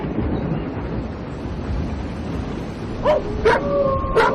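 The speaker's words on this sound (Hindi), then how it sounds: "अरे इन कुत्तों का मुझे समझ नहीं आता, रात होते ही भैं भैं करके रोने लगते हैं।" Dogs bark and whine at night on a deserted road near a forest: a few short yelps and barks come late and at a moderate distance over a steady low rumble.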